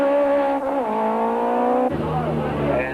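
Nissan rally car of Hannes Grobler and Douglas Judd pulling off the start of the opening stage, its engine note rising then dropping through a gear change, loud and close, with a commentator talking over it.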